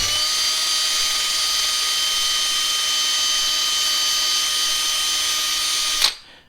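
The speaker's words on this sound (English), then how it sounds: "Once that's sealed, I'll take a drill. This is one of those aluminum brushes or whatever." A power drill fitted with an aluminum wire brush spins steadily while scrubbing a 2015 Ram rear differential pan clean, giving a loud, constant high whine up close that winds down abruptly at the end.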